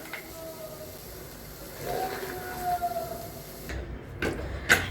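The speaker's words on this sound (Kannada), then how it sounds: "ಅದು ಕುಕ್ಕರ್ ವಿಸೆಲ್" A pressure cooker whistle releasing steam while vegetable pulao cooks in a home kitchen, a thin hissing whistle rising over a few seconds with sharp clicks and a brief burst near the end, under quiet room noise.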